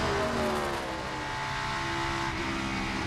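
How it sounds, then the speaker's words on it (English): A NASCAR Cup Series race car engine roars loud and steady throughout, its pitch holding a sustained high-revving drone with layered harmonics as the car runs a lap. "Motor still sounding good to me."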